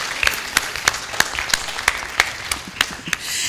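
Audience members at a Nigerian humanitarian response plan launch clap in a sparse, rhythmic pattern, with about a dozen distinct, fairly evenly spaced claps standing out over a low room background.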